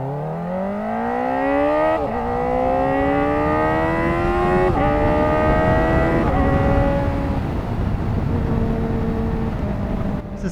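A Kawasaki ZX-4RR inline-four motorcycle screams at high revs, then blips down through several quick-shifter downshifts, each marked by a sharp rev break before the engine note settles lower, loud and close throughout.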